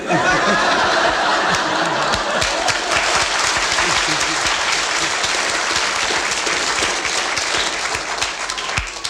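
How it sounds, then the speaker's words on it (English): Studio audience at a BBC radio panel game breaks into loud, sustained applause mixed with chuckles and laughter, the clapping dense and close before tapering slightly near the end. "You have received your round of applause."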